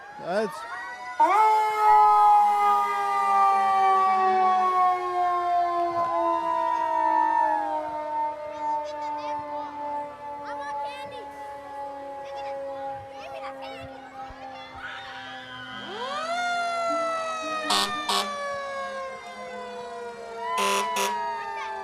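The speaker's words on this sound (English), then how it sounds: "Wow, they are ripping those sirens." Loud wailing emergency vehicle sirens at a St. Patrick's Day parade rise and fall continuously, several overlapping, with sharp horn blasts near the end.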